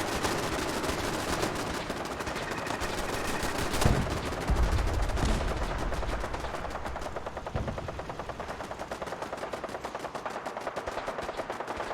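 Defensive turrets in Fallout 4 firing continuously, a dense, steady stream of rapid mechanical gunfire with a few louder impacts, sustained throughout without voices.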